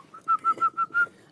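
Pet bird giving a quick run of five clear, even whistled chirps in steady rhythm, close and alone against a quiet background.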